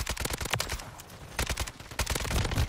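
Rapid automatic gunfire from a Kastov 762 rifle in Call of Duty: Modern Warfare 3, loud, close bursts of sharp shots with brief pauses between strings.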